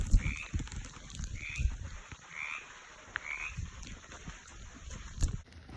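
Several male Baja California tree frogs call in short croaking bursts, repeated at an uneven pace against a steady low background, with no voices present.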